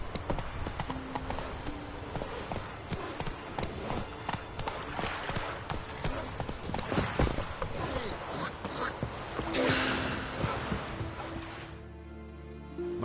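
Roach the horse galloping in The Witcher 3, a rapid continuous clatter of hooves close up, with a brief swell of rushing noise near the end before it cuts off.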